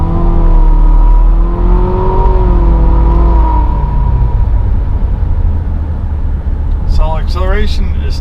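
A 2019 Infiniti QX50 accelerating, heard from the cabin as a loud low engine drone with rising harmonic whine that fades into steady road rumble, a person talking near the end.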